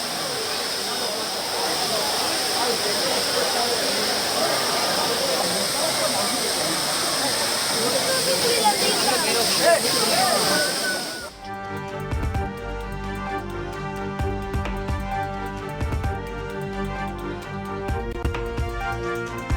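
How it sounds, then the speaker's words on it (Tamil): Courtallam waterfall crowded with holidaying tourists roars as a loud, steady broadband rush for about eleven seconds, then gives way abruptly to music. "தொடர் விடுமுறையால் குற்றால அருவிக்கு படையெடுக்கும் சுற்றுலா பயணிகள்."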